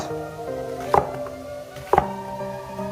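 Knife chopping an onion into half rings on a cutting board, two distinct sharp chops about a second apart over a faint background hum.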